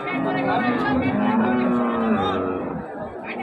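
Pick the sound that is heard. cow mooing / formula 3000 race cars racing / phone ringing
cow mooing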